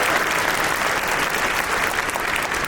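Sustained loud applause from a graduation crowd for an honored guest, a dense steady wash of clapping with no break.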